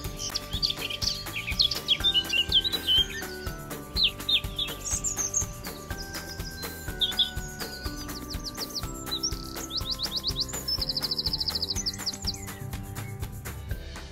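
Several garden birds, robins, blue tits and an occasional blackcap, sing and chirp over a steady low background hum, with overlapping bright trills and repeated tweets going on throughout.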